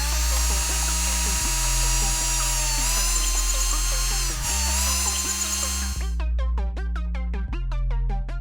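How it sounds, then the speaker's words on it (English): Power drill fitted with a 1/8 inch bit drilling at an angle through a polycarbonate cover and its frame, giving a steady close whine with a low motor hum and rhythmic pulsing throughout. "Using the guide on the frame, drill through both the cover and frame at a 45-degree angle."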